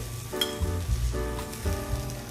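Head-on, tail-on shrimp sizzle in hot oil in a Koizumi electric grill pot at medium heat, a loud continuous crackle that swells in a few bursts as the pieces settle, close up with no voices.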